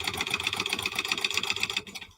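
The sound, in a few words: sewing machine running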